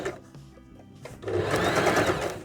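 Sewing machine running steadily as it stitches a seam on a rainbow pillow toy, quiet at first and then a dense, continuous whir for the latter half.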